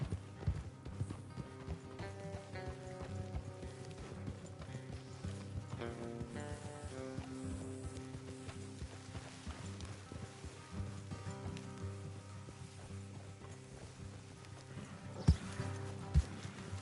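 Horse hooves clip-clop in a steady trotting rhythm over a bed of music in Red Dead Redemption 2, with a few sharper clatters near the end.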